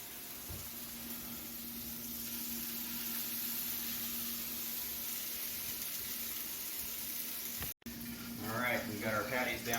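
Hamburger patties sizzling on a hot griddle, a steady broad hiss that holds throughout at moderate loudness with a low hum beneath, broken by a brief cut, and a voice talking near the end.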